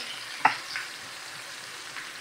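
Onions cooking slowly over turned-down heat in a pan for chicken carbonara give a soft, steady sizzle, with a brief stir or clatter near the start, faint and unaccompanied.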